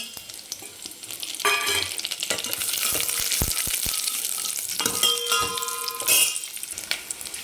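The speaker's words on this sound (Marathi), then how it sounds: "तसं तुपामध्ये आपण हे टाकलेलं आहे ड्रायफ्रूट आणि ओला नारळ हे छान आपण फ्राय करून घेऊ एक मिनिटभर फक्त" Dry fruits and fresh grated coconut fry in melted ghee, giving a steady close sizzle with occasional stirring clatter and brief louder bursts, no voices.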